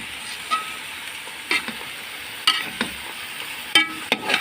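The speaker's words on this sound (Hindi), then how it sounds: "गोश्त डाला अपने इसकी भुनाई करूँगी अच्छी तरीके से" Beef being fried with browned onions in a pot, a steady sizzle with a few sharp stirring scrapes and clacks over it, close up, with no talking.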